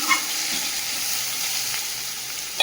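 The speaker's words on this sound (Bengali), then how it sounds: "মশলাটা খুব সুন্দর করে ভেজে নিয়েছি।" Spice paste frying in a pan, a steady close sizzle with a brief clatter at the start and end, no voices.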